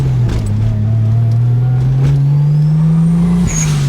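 A manual-transmission car drives along with a steady loud engine drone whose pitch slowly rises, then dips briefly as a gear change comes near the end, heard up close with no talking.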